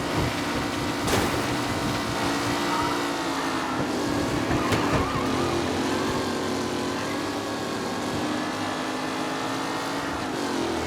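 Race cars in the Mafia Definitive Edition video game, a loud sustained engine drone with a steady pitch that shifts slightly, joined by brief thumps and a passing swell near the middle.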